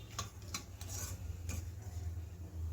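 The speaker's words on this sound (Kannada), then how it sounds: "ರವೆ ಸೇರಿಸ್ಕೊಂಡು ಇದನ್ನು ಮಂದ ಉರಿಲಿ ಚೆನ್ನಾಗಿ ಸ್ಮೆಲ್ ಬರೋವರೆಗೂ, ಗಮ್ ಅನ್ನೋವರೆಗೂ ಹುರ್ಕೋಬೇಕಾಗತ್ತೆ." Semolina dry-roasting over low heat in a pan, stirred with a utensil that scrapes and clicks against the metal several times over a low steady hum, quiet and close.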